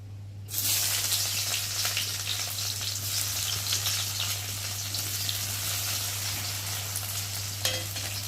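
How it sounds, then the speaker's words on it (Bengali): Onions frying in a pan for a spicy fish curry, a loud, steady sizzle that bursts in suddenly as they hit the hot oil and then carries on with light stirring, accompanied by a constant low hum. "তো চলো আমি এখন পেঁয়াজ দিয়ে ভালো করে ভেজে নেব"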